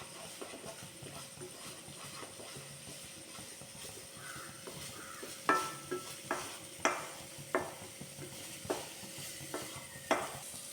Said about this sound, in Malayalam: നമുക്ക് നന്നായിട്ട് ഇളക്കാം.